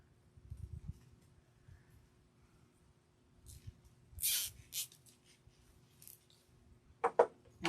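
Scissors snip off the end of a zip tie on a wreath, a few quiet, crisp cuts close by, following soft rustling and handling of materials.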